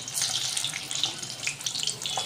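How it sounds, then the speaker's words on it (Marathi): Spinach and paneer koftas dropped into hot oil give a steady, close hiss of frying with fine bubbling crackle throughout, loud and continuous with no voices over it. "आता हे मी तुम्हाला दाखवायसाठी टाकत आहे तेलामध्ये."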